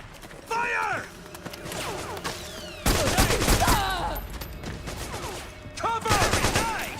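Bursts of rifle gunfire in Metal Gear Solid 4, rapid volleys in three loud clusters separated by quieter gaps, with shouting voices mixed into the firefight.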